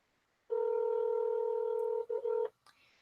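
A telephone ringback tone sounds on a call line, one steady electronic tone lasting about two seconds with a brief stutter near its end, loud and alone, then fading into faint line noise.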